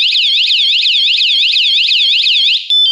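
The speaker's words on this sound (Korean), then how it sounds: "이런 소리가 경보음이 30초 동안 울려요" A motorcycle anti-theft alarm on a Harley-Davidson Softail shrieks close and loud, a fast, steady warbling siren that repeats over and over, then cuts off abruptly near the end.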